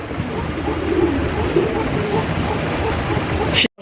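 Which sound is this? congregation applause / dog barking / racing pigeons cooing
racing pigeons cooing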